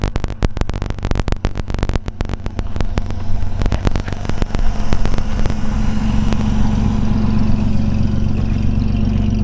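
The six-cylinder engine of a 1932 DeSoto SC Standard 6 three-window rumble seat coupe idles close by, a loud uneven chugging with sharp popping bursts early on that settles into a steady rumble.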